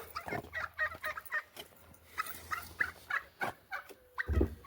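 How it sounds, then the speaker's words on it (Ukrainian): A turkey gobbles in rapid bursts of warbling calls, fairly close, repeated several times with short gaps and a few low thumps near the end. "Це у нас індик"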